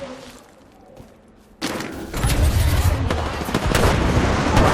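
Gunfire in the video game Apex Legends: after a quiet start, a sudden burst of rapid shots breaks in and continues as dense, loud firing to the end.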